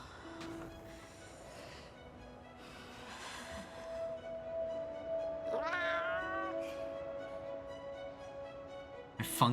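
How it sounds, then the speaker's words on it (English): A cat meows in the Monster Hunter Wilds video game. There are several short meows over a low, steady hum, and one rising cry in the middle stands out clearly. "A funky looking cat"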